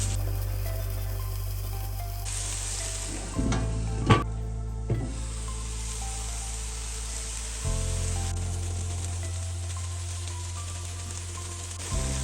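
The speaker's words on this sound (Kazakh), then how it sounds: "Оны да жақсылап араластырып, бір қуырып аламыз." Onions stirred and fried in a pan for a Thai-style meat dish, a low, soft sizzle with a few clanking stirring knocks partway through, faint and steady otherwise.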